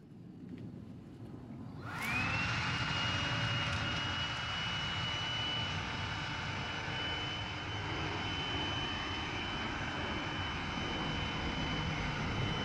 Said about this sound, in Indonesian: Kita akan memfungsikannya sebagai mesin vakum cleaner.